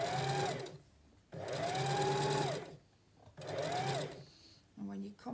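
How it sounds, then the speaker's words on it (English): A sewing machine stitches doll fabric in three sustained runs of steady whirring, each lasting about a second or more with short pauses between, close up, followed by a brief final burst. "pop it onto your machine, secure, stitch dead along your line"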